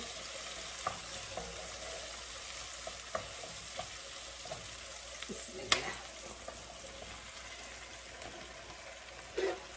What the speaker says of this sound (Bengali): এখানে শাক ঢেঁড়স ভাজি করার জন্য পেঁয়াজটা আর রসুনটা একটু হালকা সফট করে নিতেছি।